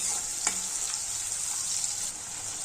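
Chopped onion sautéing in a pan until pinkish for a fenugreek and black-eyed pea curry, a steady close sizzle with a few faint stirring clinks, no talk.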